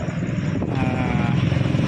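A Yamaha MT motorcycle engine runs steadily at close range, a low, even mechanical drone with a faint whine on top, holding constant throughout without speech.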